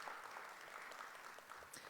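Faint, distant applause from a middle school spelling bee audience honoring teachers and building administrators, a steady low wash of many hands clapping.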